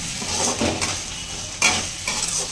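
Wheat rava for upma roasts in a pan, with a steady soft sizzle and a few scraping stirs of a spoon against the metal, close by, no talking.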